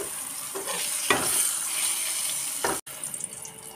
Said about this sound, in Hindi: ऐसे करके सब बैगन फ्राई कर लूँगी